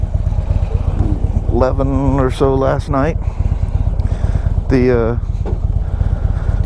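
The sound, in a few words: Harley-Davidson Street Glide motorcycle engine running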